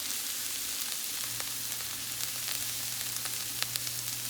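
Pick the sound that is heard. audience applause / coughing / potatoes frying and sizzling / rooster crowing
potatoes frying and sizzling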